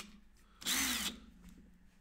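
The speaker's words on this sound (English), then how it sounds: "Get the chuck on my drill." An electric drill whirs for about half a second, spinning to wrap 26 gauge vape coil wire, loud and close, with quiet room tone before and after.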